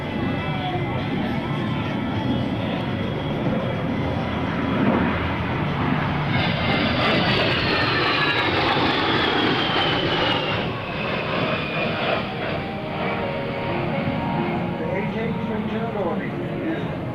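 A-10 Thunderbolt II jet flying a four-point roll at a 2004 joint services air show open house, a steady loud engine roar that stays at constant strength, with an announcer's voice over it.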